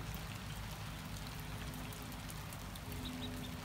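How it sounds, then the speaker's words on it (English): Steady rain falling and pattering on a koi pond, a dense continuous hiss with a low rumble beneath, even and unbroken throughout. "they're enjoying this rain."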